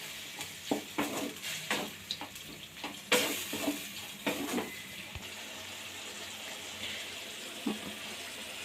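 Cooked mutton boti with onion being stirred and fried in a pan: intermittent scraping and clattering strokes over a soft background sizzle, fairly quiet, with no talking.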